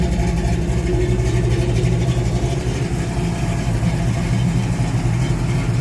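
A Pontiac car engine runs steadily close by after its timing and carburetor were adjusted, a continuous low rumble with an even idle that never breaks for the whole stretch.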